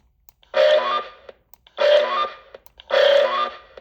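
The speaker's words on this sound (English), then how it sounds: "That's pretty close to the traditional Roger beep." Three identical electronic roger beep tones from a Radioddity CB-900 Pro CB radio, each about half a second long, sounding at a steady interval with short gaps of quiet between them.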